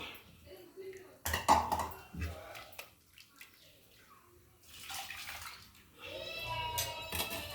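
Water left from boiling green gram splashes and pours into a metal pot in short bursts, with clinks of cookware and some background voices.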